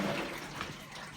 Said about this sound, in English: It is pumping out. Water is going out of it.